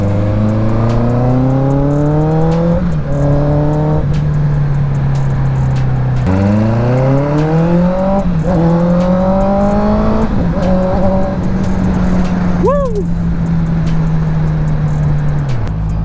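A Honda CB650R 650cc motorcycle engine revs loud and close over and over, each rise in pitch sweeping up and then dropping back to a steady idle, with one sharp, brief high blip near the end.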